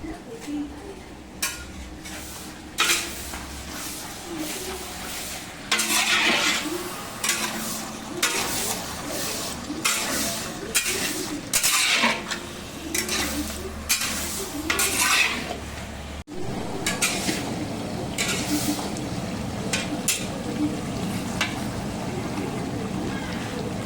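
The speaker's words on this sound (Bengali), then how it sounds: "মাংস কষানো কমপ্লিট" Meat is braised in a big kadai with turmeric and coriander powder for a ceremonial feast, with a continuous sizzle under repeated heavy scraping strokes of a ladle against the metal pan.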